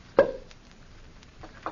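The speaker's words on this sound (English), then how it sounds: "Open the bottle, bartender." A champagne cork pops once, sharp and close, as a 1943 radio drama sound effect, followed by a few faint clinks and rustles.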